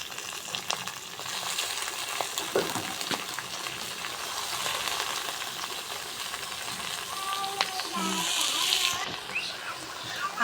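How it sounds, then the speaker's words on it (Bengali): Leafy greens freshly picked from the field fry in a pan after chopped onions, giving a steady close sizzle with scattered stirring scrapes and small splatters throughout. "আমরা এবার শাকটা দিয়ে দিব।"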